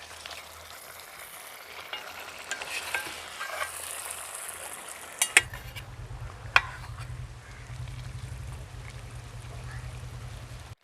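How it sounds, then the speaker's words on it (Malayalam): A spoon scrapes and stirs Afghan chicken curry in a pan with soft sizzling, punctuated by a few sharp clinks, while a low hum drones in the background and a voice speaks briefly. "ഇത് നല്ലോണം മിക്സ് ചെയ്ത് കൊടുക്കാം."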